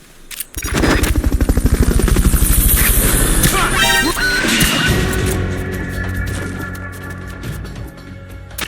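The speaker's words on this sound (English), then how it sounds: "Fulton Recovery subject confirmed onboard helicopter." A helicopter in the video game Metal Gear Solid Peace Walker, its rotor chopping loudly in a rapid pulse, mixed with game effects and a mechanical clatter, fading into a steady hum.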